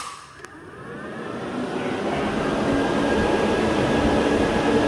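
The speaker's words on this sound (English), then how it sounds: "So there's what it's like with the two 12 inch fans that are currently on there." Two 12-inch electric cooling fans running on a car with an LS engine, a steady broad whooshing roar that swells up over the first second and then holds loud and constant, with no talking.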